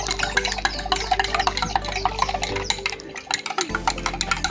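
A spoon stirring sugar into water in a container during a simple science experiment, with repeated quick clinks and swishes against the vessel, close and moderately loud over a low hum that cuts out briefly near the end.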